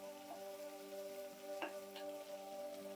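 Onions sautéing in a pan for onion rice, a soft, fairly faint sizzle with a couple of brief stirring scrapes, no speech.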